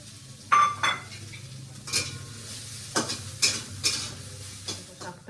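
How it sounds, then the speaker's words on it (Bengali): Bitter leafy greens being stir-fried in a pan, with repeated scraping strokes of a spatula over a soft, steady sizzle, close and fairly loud, with no talking. "শাকটা দিয়ে ভাজা ভাজা করবো এর সঙ্গে একটু নারকেল নেবো"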